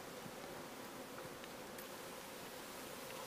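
Honeybees hum in a dense, steady drone as comb is moved into a top bar hive, close and continuous with faint rustling.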